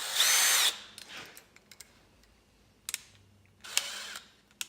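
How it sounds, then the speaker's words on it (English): A step drill bores a hole in short, loud, whining bursts separated by quiet pauses, with the tool close by and no voices. "Now we can go to our step drill."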